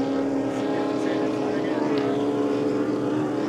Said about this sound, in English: going to send the big Rolls-Royce Merlin out for a couple laps